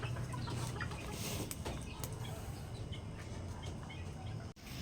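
Backyard chickens cluck softly and steadily under a constant low wash of outdoor noise, with no voices present.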